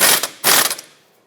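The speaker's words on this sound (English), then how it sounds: "so I'm going to hold it in place, tighten up the bolt" Two quick ratchet clicking bursts as a bolt is tightened on a front strut knuckle of a 2014-2021 Mazda 6, close and clear, then fading to quiet.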